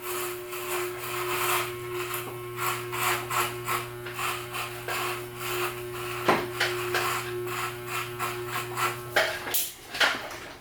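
Electric hair clippers buzz with a steady motor hum while cutting hair without a guard at the back of the neck and behind the ears, close up, with rhythmic rasping passes and no talking.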